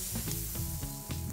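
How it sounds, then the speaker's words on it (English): Steady sizzling of rockfish and asparagus on a hot grill, close and continuous, with faint crackles and pops throughout. "Listen to that sizzle."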